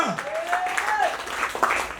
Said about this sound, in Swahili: Pigia makofi Yesu.